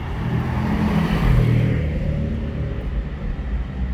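A Porsche Cayman GT4 and Boxster Spider drive past in a small convoy through Monaco, a loud, near engine rumble that swells and then fades as they move away.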